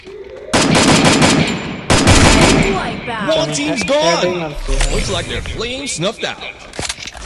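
Rapid automatic gunfire from a shooting video game, ending in a headshot, followed by a voice talking excitedly over further game sounds.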